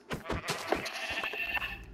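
Sheep bleating in a video game: a few short, nasal bleats in quick succession, fairly close and moderately loud, with no speech over them.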